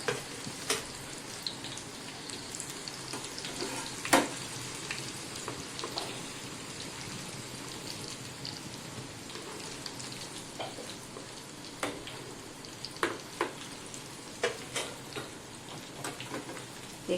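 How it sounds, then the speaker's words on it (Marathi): Pieces of Punjabi shareh street snack frying in hot oil, a quiet crackling sizzle like light rain with scattered sharp pops and spatters throughout. "असं एखाद्या चमच्यावर उलथ्यावर घेऊन फ्राय करायला टाकायचे आहेत"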